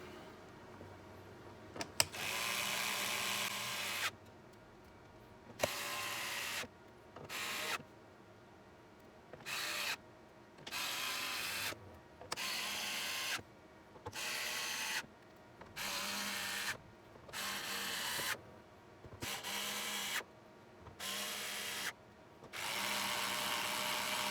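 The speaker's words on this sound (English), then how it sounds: "let's go ahead and get the rest of these screws back in" Power screwdriver driving screws back into a Dell Latitude 5420 Rugged laptop during a display and cover replacement, about a dozen short whirring bursts in an irregular rhythm with brief pauses between, close and fairly loud.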